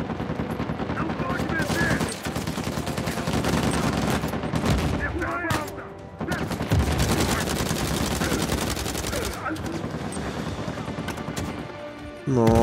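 Gunfire from the video game Uncharted 4 rattles in dense automatic bursts and single shots, loud and nearly continuous, with a player talking underneath.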